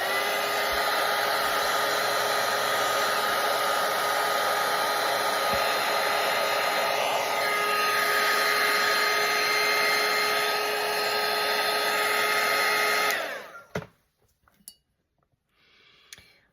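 A hair dryer blows steadily on wet watercolour paint for about thirteen seconds, a loud continuous whoosh, then cuts off abruptly, leaving near silence with a few faint clicks.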